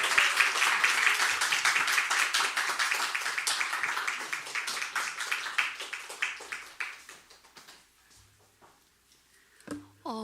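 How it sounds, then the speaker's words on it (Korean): A church congregation applauds a visiting pastor at a Sunday service, a warm sustained round of clapping that gradually fades away to quiet, followed by a brief spoken voice. "우리 다시 한번 박수하도록 하겠습니다."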